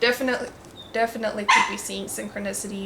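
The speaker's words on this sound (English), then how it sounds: "I'm sorry about my dog." A dog yips and barks a few times in short bursts while a person keeps talking over it during a tarot reading.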